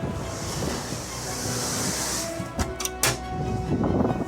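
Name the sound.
ocean waves crashing on seafront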